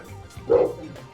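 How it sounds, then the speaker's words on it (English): A single excitable dog gives one short, sharp bark close by, a brief yip-like burst over quiet background. "That is my dog. Enjoy that barking."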